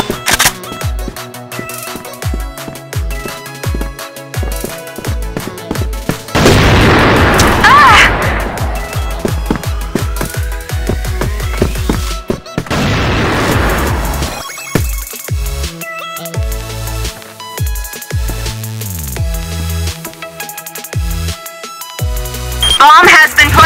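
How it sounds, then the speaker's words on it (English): Crossfire flash grenade blasts in a tactical shooter match: loud booming bursts amid rapid gunfire and clattering game effects, with players' voices calling out over the din. "Flash grenade!"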